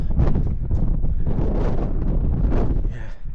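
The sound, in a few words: wind blowing on a walk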